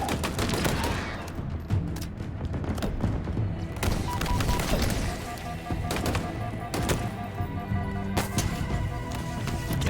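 Bursts of Ravager fire from a brute captain in Halo Infinite's campaign on Legendary, loud rapid crackling shots and blasts mixed with dense game effects and tonal cues.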